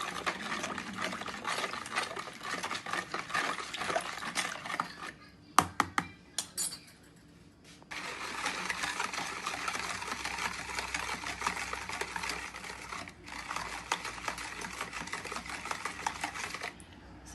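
Milk, sugar and fermented starter being stirred together in a bowl for homemade Moroccan yogurt-style zaazaa, a steady scraping swish of spoon against the container that breaks off briefly with a few clinks before continuing, close and alone.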